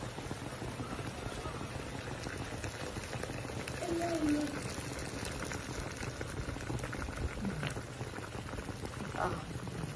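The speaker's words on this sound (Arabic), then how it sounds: "نبدا نحط ايه الميه بتاعتنا عليه" Boiled water poured over stuffed mahshi in a pot gives a steady, hissing, bubbling wash of liquid noise that runs the whole ten seconds, swelling slightly midway, with a faint voice in the background.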